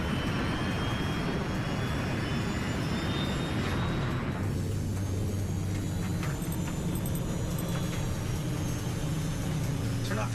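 An airliner climbing toward 33,000 feet, a steady, dense cabin roar of jet engines and airflow heard from inside, constant and loud throughout, with a faint low tone shifting partway through.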